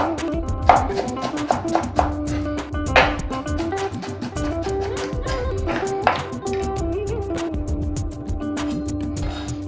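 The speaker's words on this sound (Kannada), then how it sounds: "ಈ ಕೊತ್ತಂಬರಿ ಸೊಪ್ಪು ಮತ್ತೆ ಕರಿಬೇವಿನ ಸೊಪ್ಪನ್ನ ಚೆನ್ನಾಗಿ ಫೈನ್ ಆಗಿ ನಾವು ಇದನ್ನ ಕಟ್ ಮಾಡ್ಕೋಬೇಕಾಗತ್ತೆ" A knife finely chops fresh coriander and curry leaves on a board in quick, uneven bursts of sharp taps, close and clear.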